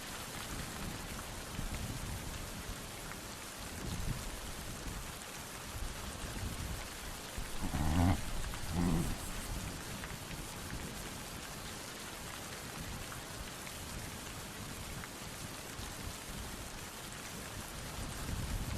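Continuous autumn rainfall on the grasslands of Peña Negra patters steadily on surfaces, a dense hiss with a slight swell in intensity midway, no voices.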